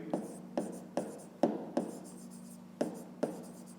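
Pen writing on paper while solving a fifth-grade maths exercise: a close, quiet series of about eight short scratchy strokes at an irregular pace, with no talking.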